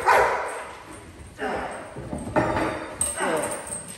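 A protection-training dog barks and growls in bursts while working a decoy's hidden sleeve, close and loud, with a trainer talking over it.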